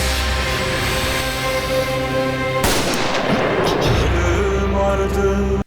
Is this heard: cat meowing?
no